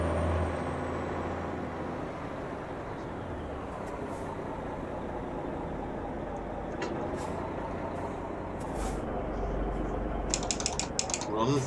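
Mack R truck in Euro Truck Simulator 2 shifting gears, with a steady engine drone underneath and mechanical clunks and hissing air sounds near the end.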